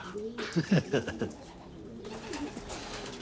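Racing pigeons in a loft give soft, throaty coos in a short burst of low rolling calls, fairly close but faint, fading to quieter murmurs.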